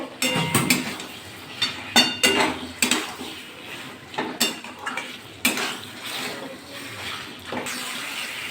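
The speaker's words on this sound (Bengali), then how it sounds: "এবার পটলগুলো দিয়ে দেবো পটল আলুগুলো দিয়ে ভালো করে নাড়াচাড়া করে নেবো" Pointed gourd and potatoes being stirred in a pan with cashews, with repeated scraping and clattering strokes of a utensil against the metal, each clank sharp and near, in an irregular rhythm without speech.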